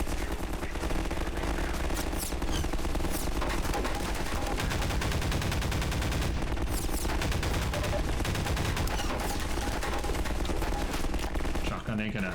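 Dense combat in Half-Life 2 (2004), with a shotgun among the repeated shots over a loud, continuous mix of game music and effects; speech from the game is also present.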